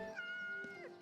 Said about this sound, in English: Dusty the stinky cat.